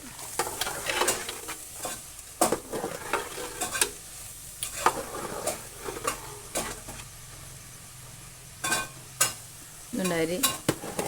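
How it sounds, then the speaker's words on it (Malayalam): Washed rice stirred into boiling water in a pot for Malabar chicken biryani, a bubbling hiss under repeated scraping and clattering stirring strokes, close by. "നമ്മൾ ആ കഴുകി വെച്ച അരി ഇതിലേക്ക് ഇട്ടിട്ടുണ്ട് നല്ലതുപോലെ ഇളക്കി കൊടുക്കുന്നുണ്ട്"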